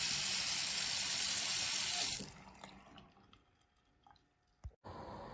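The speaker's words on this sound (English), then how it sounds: "Turn off the water faucet." Water pours loudly and steadily from a faucet during a water heater sediment flush for about two seconds, then is shut off, leaving faint drips and small clicks in a quiet room.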